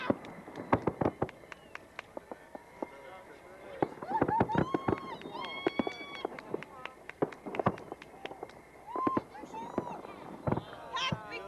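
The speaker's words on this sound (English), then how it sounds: "the action shifted to Ken's Lake for the annual fireworks display" An annual fireworks display at Ken's Lake, with repeated sharp cracks and pops in irregular bursts alongside whistling rising tones, heard at a moderate distance under an announcer's voice.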